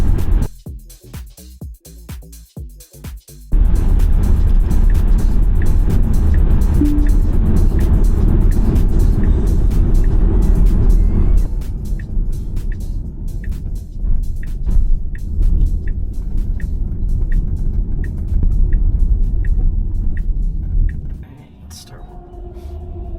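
A Tesla Model 3 towing a trailer rolls along with a low, steady road and cabin rumble, and people talk over it. The noise eases toward the end.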